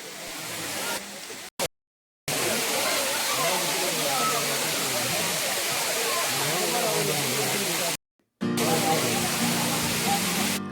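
Suruli waterfall in a forest near Theni roars as a constant broadband rush, loud and close, broken by two brief silent cuts.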